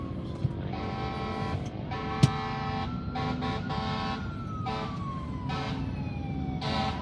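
A fire truck siren wails with rising and falling tones over steady street traffic noise in Manila, moderately loud and continuous.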